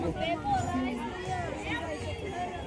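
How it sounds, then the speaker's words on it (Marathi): A large crowd of visitors chattering at a goddess temple in Satara district, a dense, steady babble of many voices close around, with no single speaker standing out. "गर्दी भरपूर आहे"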